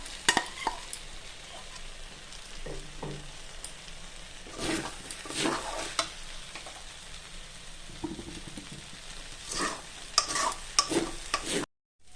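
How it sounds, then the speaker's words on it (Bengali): Pre-fried cauliflower and potato tipped into a pan for sabudana khichuri and stirred, a quiet sizzle punctuated by repeated bursts of scraping and clattering from the spatula, ending abruptly. "এবার দিচ্ছি আগে থেকে ভেজে রাখা ফুলকপি এবং আলু।"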